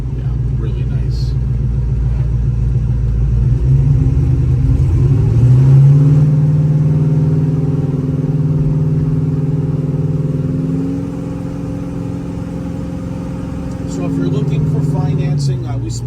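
A 1955 Chevrolet Bel Air engine rumbles steadily while driving, low and close, rising in pitch as it accelerates and easing off later; someone talks over it throughout.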